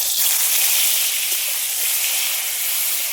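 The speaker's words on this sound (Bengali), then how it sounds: "এবার আমি এই পটলগুলো ভেজে নেব।" Pointed gourd (potol) fries in hot mustard oil in a kadai, giving a steady, close hiss of sizzling that continues without a break.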